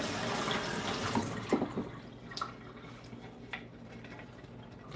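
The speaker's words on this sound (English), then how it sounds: "I'm going to rinse this off once, because I know it does have some egg yolk on it from the hollandaise sauce" Water runs from a kitchen tap while a cutting board smeared with egg yolk from hollandaise sauce is rinsed, a steady hiss with a few clatters and drips, fairly close and tapering off later.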